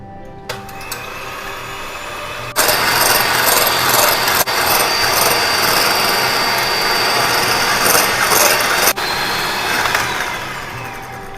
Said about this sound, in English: I'm going to take egg whites and I'm going to beat till it's stiff